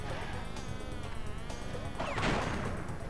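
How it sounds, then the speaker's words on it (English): An insect buzz from a bee enemy in the video game Crash Bandicoot 2, a continuous droning hum over game sound effects, with a louder crashing burst midway. "Hey, I almost got killed by the bee."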